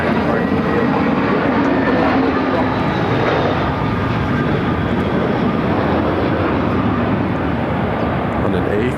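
An American Airlines A321 jet arrives in Phoenix from San Diego, a steady moderate engine roar holding throughout with faint whining tones, while a voice talks over it.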